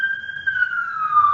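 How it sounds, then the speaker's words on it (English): Passing police siren holds a sustained, loud wailing tone that drifts gradually lower in pitch, with faint traffic rumble underneath and no voices. "There's a cop car going by."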